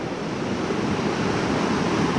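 Hazel Creek in North Carolina rushes beneath a footbridge on a rugged mountain trail in mid-September, a steady, loud, broadband roar of flowing water with no break across the clip.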